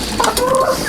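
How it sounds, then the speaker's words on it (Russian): Hens clucking and chattering close by in a backyard coop, several short overlapping clucks packed into under a second, loud and without talk. "Я сейчас пойду к курочкам."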